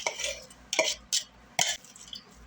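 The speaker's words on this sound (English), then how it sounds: "in goes all that onion" Chopped onion stirred into a black bean burger mixture, giving a few scraping, wet mixing strokes in short bursts, close and fairly quiet with no talking.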